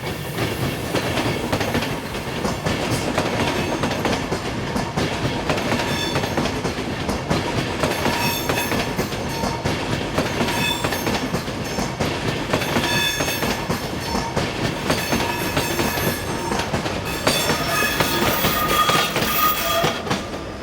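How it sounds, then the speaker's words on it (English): Austrian Railjet passenger train RJ632 from Linz to Vienna on the Semmering Pass route, pushed by a class 1116 locomotive in police livery at the rear, passing close by with steady rumbling and clickety-clack of wheels, a faint squeal rising near the end. "carries Austrian police livery and powers at the rear of train RJ632 from Linz to Vienna"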